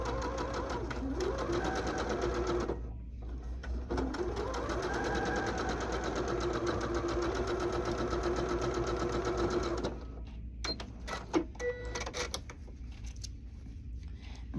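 A sewing machine stitches down a quilt block with a steady, fast mechanical whir. It runs almost continuously, with one brief pause near three seconds, then stops around ten seconds, followed by light clicks and handling noises.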